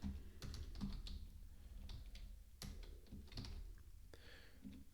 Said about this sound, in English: You type in your password.